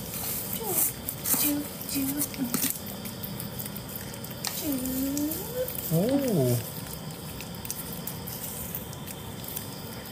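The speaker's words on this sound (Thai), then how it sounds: "ใครชอบน้องแมว2ตัวนะครับ" Two pet cats vocalize with short, rising and falling meows, the clearest near the middle and end, over a busy household background with someone speaking softly at times.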